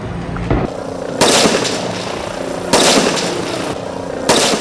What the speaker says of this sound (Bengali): হেলিকপ্টার থেকে রাবার বুলেট ও টিয়ার গ্যাসের শেল ছোড়ে